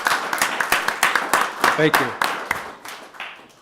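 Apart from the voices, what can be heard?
applause for a rescuer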